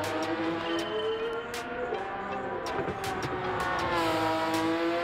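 In Gran Turismo 7, a Porsche Cayman GT4 '16 engine races flat out, holding a loud, steady rising and falling whine through the gears, with brief clicks and a voice talking softly underneath.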